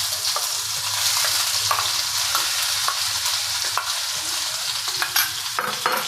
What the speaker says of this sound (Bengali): তার মধ্যে এই পেস্ট করা নারকেল আর পোস্ত বাটার এটা দিয়ে দিচ্ছি।